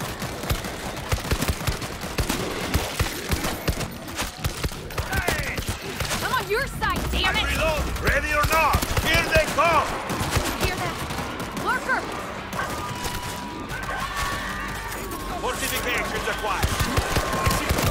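Rapid gunfire fills a World War Z Aftermath zombie shooter fight in a Rome monastery area, steady near-continuous bursts rattling throughout while voices talk over the shooting.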